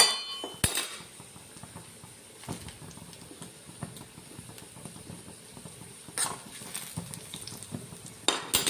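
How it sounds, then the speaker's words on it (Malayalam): Onions being fried in a pan until they turn deep red for a Kerala-style ash gourd curry, with sparse metallic spoon clinks and scrapes over a low, quiet sizzle, close by and without speech. "നമ്മൾ വറുത്തിടാൻ ആവശ്യമായ ഉള്ളിയെല്ലാം നല്ല മൂത്ത് വരുന്നുണ്ട്"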